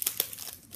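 A Pokemon Breakthrough booster pack wrapper is torn and crinkled open, giving a few short, close foil rips and crackles over less than a second.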